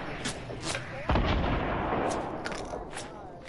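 In a PS4 shooter game, a heavy rocket blast booms and rumbles, with sharp pops and bursts scattered before and after over a continuous noisy background.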